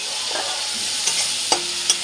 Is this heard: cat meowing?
no